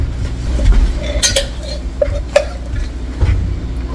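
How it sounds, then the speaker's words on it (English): A bacon dripping container with a strainer is handled in a kitchen, giving several hard clinks and knocks against a low background rumble, close by and without speech. "Here's my little handy dandy bacon dripping container. It's got a strainer that strains any of the bacon pieces."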